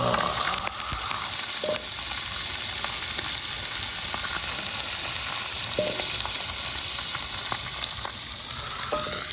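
Pork belly frying on a grill at a campsite picnic, a loud continuous sizzle with occasional clinks of utensils, close and with no talking.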